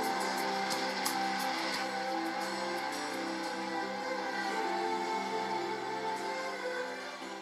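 A Rondeau race car runs on the circuit at the 1982 Le Mans 24 Hours, its engine a steady, loud, sustained roar with layered harmonic whine holding throughout, fading slightly at the end.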